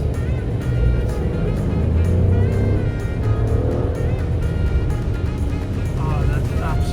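An Alfa Romeo Stelvio Quadrifoglio on the move, its engine droning steadily with rising and falling pitch as paddle-shifted gears change, loud and close throughout with road and cabin noise.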